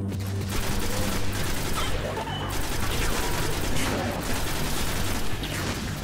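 Rapid, dense gunfire from the Destiny shooter game rattles close and loud over a low rumble, with occasional heavier blasts mixed into the steady stream of shots.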